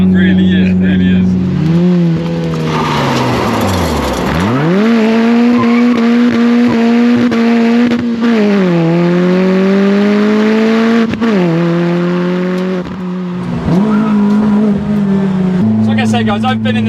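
A cammed Citroen C2 rally tribute car on the road, its engine loud and close as it revs up and down through repeated pulls and gear changes, with tire noise and people talking over it.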